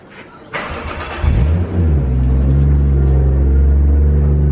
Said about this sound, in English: I'll give you a bit of a start up with this HKS muffler on.